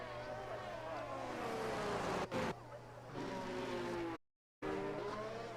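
A race car in a sim racing game at the Hungary round, passing through the final corner with a whining engine whose pitch sweeps and shifts, tires faintly squealing; the sound cuts out abruptly for a moment, then resumes.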